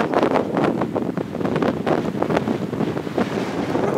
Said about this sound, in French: Oh, ce vent de fou!